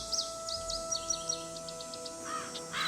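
A bird caws loudly in a series of harsh calls over the first half, then a few weaker calls follow over a steady background hum.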